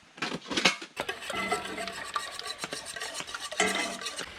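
Scrambled eggs being stirred in a mixing bowl at a camp in the Ouachita Mountains: quick scraping, clinking strokes of utensil against bowl, loud at first, then a steadier run of softer rubbing and clicks, then a final burst of brisk stirring.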